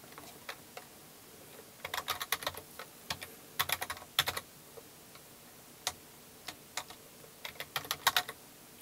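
Typing on a computer keyboard while drafting in AutoCAD, heard as quiet, close, irregular bursts of crisp keystrokes with short pauses between clusters, and no talking.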